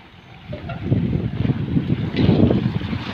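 Rough waves churn along the shore of Manila Bay during a typhoon, a continuous low rumbling wash of surf with wind buffeting the microphone, close and steady with no talking.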